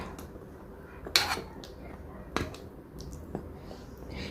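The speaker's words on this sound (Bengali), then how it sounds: "চিনি শিরায় ঢেলে দিলাম ঢেলে দিয়ে একটু ওলট পালট করে নেব যাতে করে রসটা ভিতরে ঢোকে" Homemade chhena jilapi being turned over in sugar syrup in a pan, with a few sharp metallic clinks of a utensil against the pan spaced across a quiet kitchen background.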